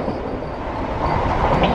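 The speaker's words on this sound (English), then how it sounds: "Train noise is always loud." Loud, continuous rumble of a passing train, a dense steady roar filling the short stretch and swelling slightly toward the end, with no talk over it.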